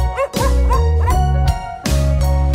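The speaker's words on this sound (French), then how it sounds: "Au marché, achetons un chien blanc." Cartoonish dog barks and yips ring out in a French children's song, several sharp yelps in quick succession, loud and close, set against a sustained musical backing.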